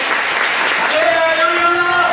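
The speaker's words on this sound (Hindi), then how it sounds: "क्या परमेश्वर के लिए ताली नहीं बजा सकते? जोर से ताली बजा सकते?" Loud congregational clapping at a preaching meeting in Bengal, dense and continuous, with a sustained voice or tone rising over the applause in the second half.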